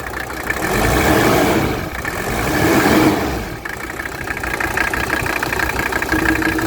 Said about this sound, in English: First, I want you to look at how smooth the engine idles.